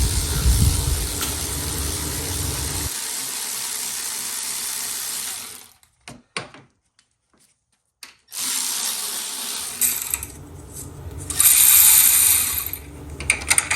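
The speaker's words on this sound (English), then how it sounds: "then you want to loosen the other 12mm bolt" Ratchet clicking steadily on a 12mm bolt on a car alternator, loud and close for several seconds, a pause with a few scattered metallic clicks, then a burst of rapid ratcheting again.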